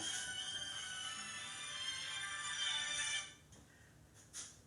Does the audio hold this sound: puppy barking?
no